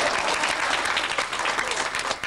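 Applause from an audience at a live Dr. Demento 20th anniversary show in 1991, dense and loud, filling the whole moment as a continuous wash of clapping with no talking.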